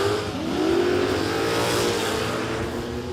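Toyota Tirana hatchbacks launch in a no-prep drag race at Warwick Dragway. Engines rev loud and close, and a rising pitch sweeps upward as the cars accelerate hard, with no voices over them.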